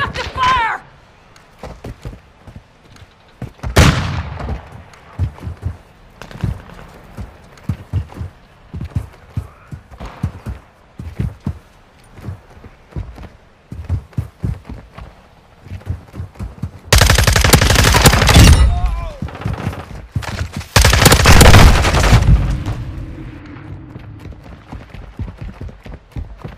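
Gunfire in Call of Duty Modern Warfare 2 multiplayer: sharp rapid bursts and single shots crackle throughout, building to two loud sustained barrages, with in-game voices calling out between them.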